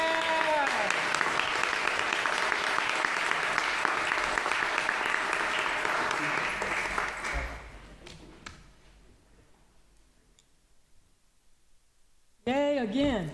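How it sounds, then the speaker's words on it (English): Crowd claps for Salvation Army members celebrating the organization's 125th anniversary at a city council meeting, a dense burst for about seven seconds that fades into quiet before a voice resumes. "Big round of applause for them."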